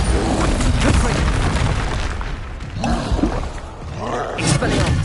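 Combat spells burst and explode in rapid succession during a Hogwarts Legacy fight, loud booming blasts and crackling impacts densely layered with a voice talking over the clash.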